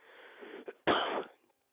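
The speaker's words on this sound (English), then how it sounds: "sorry, I still have a little bit of a cough" A person's cough, a short breathy burst followed by a louder, harsher cough, close and alone with no talk.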